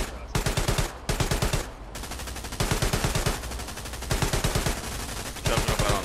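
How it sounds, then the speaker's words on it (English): Tank driver's machine gun in Hell Let Loose roaring in long, loud automatic bursts with brief pauses between them, each burst a steady rapid rattle of shots heard close and up front. "we're only using the driver's machine gun right now"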